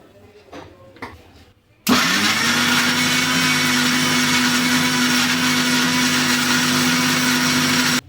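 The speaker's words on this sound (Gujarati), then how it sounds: "હવે દૂધીના કટકાને મિક્સર જારમાં પીસી લેશું ને સરસ મજાની પ્યોરી તૈયાર કરશું" After a few soft clinks and someone speaking, a mixer grinder starts abruptly and whirs loud and steady, pureeing bottle gourd pieces with water in the jar, then cuts off sharply at the end.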